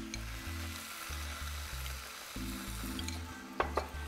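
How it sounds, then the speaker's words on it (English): Beef and asparagus stir-fry tossed in a hot pan with a little cornstarch, a faint continuous sizzle with a few sharp scrapes and clinks of the pan near the end. "Give it a quick toss here."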